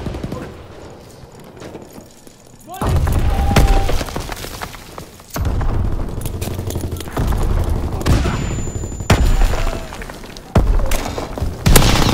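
A radio being blown up during Call of Duty WWII multiplayer, heard as a series of loud, close booms and gunfire bursts with crackling debris, separated by brief quieter gaps and sustained rattling fire.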